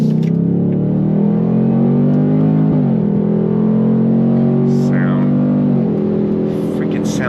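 A 2025 Ford Mustang GT V8 burbles steadily at quarter throttle from inside the cabin, a loud, continuous low drone that dips and rises slightly with gear or throttle changes.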